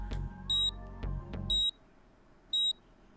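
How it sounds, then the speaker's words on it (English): Three short, high electronic beeps from the video game 428: Shibuya Scramble, spaced about a second apart, the first two over a low humming rumble that cuts out before the last. "A tiny beeping sound caught Kano's attention."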